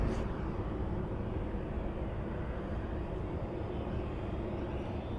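A Southwest airliner taking off from runway 27 in San Diego: a continuous, heavy jet roar that holds steady throughout, broad and rumbling with no pauses.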